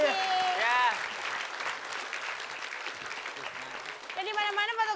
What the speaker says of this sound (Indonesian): Oke, tepuk tangan untuk Pak Jojo dan Pak Mani dan Pak Bola.